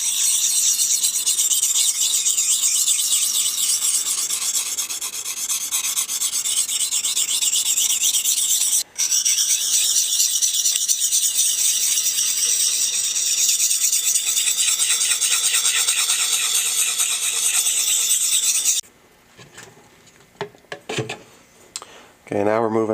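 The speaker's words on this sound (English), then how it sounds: "moving on to the 400 grit stone now" A cheap knife is sharpened on a 400 grit stone in long, continuous rasping strokes that run steadily for about nineteen seconds, with one brief break, followed by a few short, scattered scrapes.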